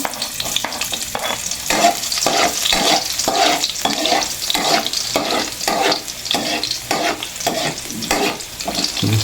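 Garlic frying in a pan for squid adobo, a loud, busy sizzle with rhythmic scraping and stirring strokes throughout, close up and continuous.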